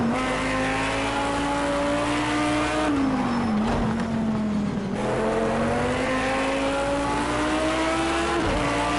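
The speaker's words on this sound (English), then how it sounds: "Yeah, dude, I love the sound of this car. It's sweet. That's a screaming V10." A screaming V10 race car engine in a racing video game holds a loud, steady high-pitched drone with sweeping pitch shifts as it revs and eases off, with a brief dip mid-run before climbing again.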